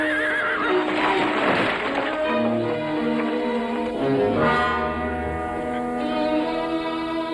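A horse whinnies loudly with a long, quavering neigh in the foreground of a Western scene, set against a sustained orchestral score that continues throughout.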